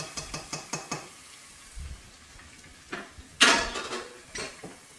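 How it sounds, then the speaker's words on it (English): Dry white rice goes into a pan with sautéed garlic, first as a quick run of light clinks and ticks, then as a louder rattling pour and scrape. The sound is close, with no talking. "I'm gonna add 1 cup of white rice."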